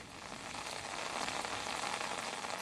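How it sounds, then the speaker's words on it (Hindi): Heavy rain pours in Kolkata during Cyclone Dana, a dense, steady hiss of drops hitting surfaces, continuous and fairly close with no voices. "कलकत्ता में भी भारी बारिश शुरू हो गया।"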